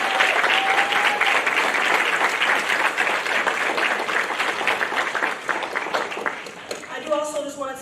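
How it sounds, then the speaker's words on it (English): A large audience applauds at a policy discussion on book bans, with dense sustained clapping that holds steady and then thins out toward the end. "Let's clap for our babies one more time."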